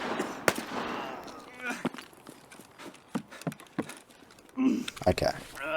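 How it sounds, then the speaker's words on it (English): An exchange of gunshots in a hardcore shooter game, sharp cracks spread irregularly across the clip, some near and loud, others fainter, mixed with footsteps and a voice speaking. "We're going to exchange shots."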